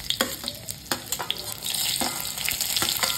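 Cumin seeds and green chillies fry in hot mustard oil, a loud continuous sizzle and crackle broken by sharp spatters and stirring clicks, building denser toward the end.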